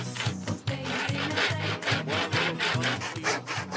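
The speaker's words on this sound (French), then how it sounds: "Quand tu scies, c'est en force, comme ça." A hand saw cuts through wood with about a dozen quick, regular back-and-forth strokes. The oiled blade rasps close and loud, with no talking.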